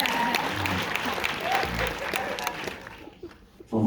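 A live audience claps together in a steady burst of applause, with a voice over it before the clapping fades to near silence and picks up again at the end.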